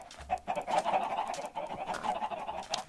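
A chicken in Minecraft clucks in a string of soft, quick clucks, fairly faint and alone against light background noise.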